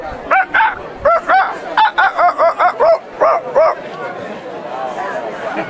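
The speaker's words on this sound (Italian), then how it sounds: "Ma i cani in questa città si fanno sentire?" Several dogs bark in a quick rapid series, loud and close, with yips mixed in, then the barking stops and faint background noise remains.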